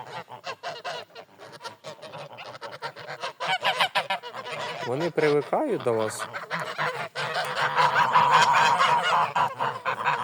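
Grey domestic geese honk repeatedly in a loud, close flock, their nasal calls overlapping with someone talking nearby.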